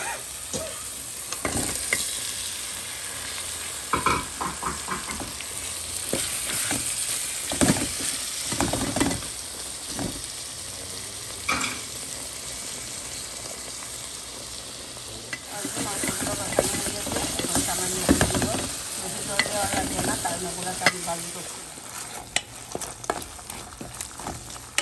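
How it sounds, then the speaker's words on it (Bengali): Meat frying in hot oil in a pan, a continuous sizzle with frequent scraping and knocking as it is stirred, louder in bursts across the span and with no one talking. "তখন মাংসগুলো দিয়ে দিলাম"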